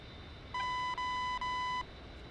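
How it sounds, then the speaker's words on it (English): An angle of attack warning horn in a flight video game, three steady electronic beeps of a single high tone, each about a third of a second long with brief gaps, heard clearly over low background hum. "So that beeping is the angle of attack. Horn basically telling me that I'm getting near the critical angle of attack."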